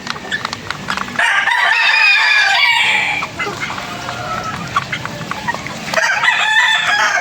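Gray Carichua roosters crow loudly and close by in long drawn-out calls, with clucking and other chicken sounds filling the gaps on a backyard poultry farm.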